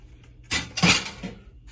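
Drained sweet potatoes tumble out of a cooking pot in a short clattering burst of a few metallic knocks and scrapes, close and fairly quiet.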